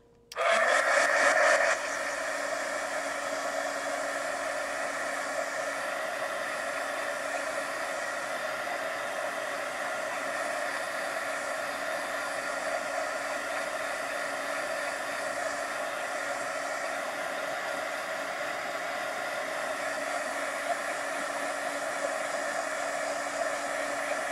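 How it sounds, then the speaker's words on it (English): A heat gun blows steadily to dry ink on a craft tag, giving a constant, close whirring hiss that starts with a sharp switch-on and holds at an even level throughout, with no talking. "I'm just going to heat gun zap that and see if we can dry it real quick"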